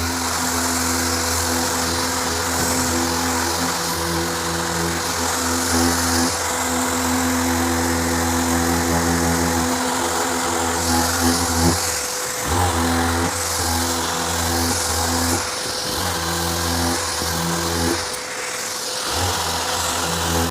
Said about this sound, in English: machine sand those out with an orbital sander and the 320 grit sandpaper